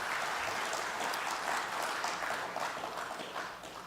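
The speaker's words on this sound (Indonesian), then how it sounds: "Tepuk tangan buat kita semuanya" Audience applause at an Indonesian financial regulator's capital market outlook event, a steady wash of many hands clapping that fills the room and tapers slightly toward the end, with no voices over it.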